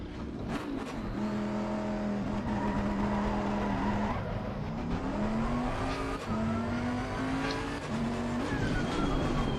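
Race car running a lap in Assetto Corsa Competizione on a PS4 Pro with a Logitech G29 wheel, a steady loud engine drone rising and falling in pitch through gear changes, with brief tyre squeal and no talking.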